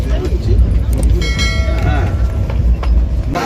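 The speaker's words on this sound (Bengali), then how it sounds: "আমাদের ট্রেন নিউ জলপাইগুড়িতে এসে থামল" The 13147 Uttar Banga Express pulls into New Jalpaiguri station with a heavy, continuous rumble and clatter heard from inside a 3rd AC coach, while voices chatter nearby.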